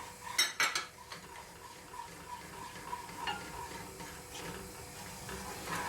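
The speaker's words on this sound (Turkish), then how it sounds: "Un kokusu çıkana kadar, unun rengi hafif değişene kadar kavurma işlemine devam ediyoruz." Two spoonfuls of flour are stirred and roasted in hot oil in a pot for lentil soup. A spoon clinks sharply against the pot at the start, then a soft, quiet scraping and sizzle continues.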